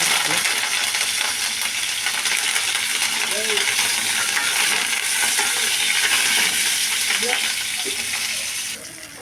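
Dried red chillies and curry leaves fry in hot oil in a pan, a steady dense sizzle with crackling pops running throughout, close and loud, easing slightly at the end.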